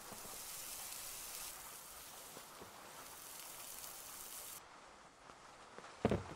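Rain falling in the horror game KIOSK, a steady soft hiss of rainfall with scattered drops that thins near the end before a brief louder knock, with no talk.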